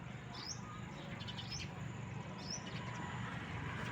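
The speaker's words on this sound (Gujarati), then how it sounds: "પંખીડા સરસ મજાના ખિલખિલાટ કરે છે." A few short, high bird chirps, about three spaced evenly apart, sound faintly over a steady, low outdoor rumble in open land at the edge of a Gujarati village.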